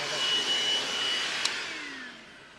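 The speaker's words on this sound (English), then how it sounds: "Simoniz cordless vacuum. Got several different heads. It's a cool little gadget." A Simoniz cordless vacuum whines steadily while cleaning a truck interior, then its motor pitch drops as it winds down near the end.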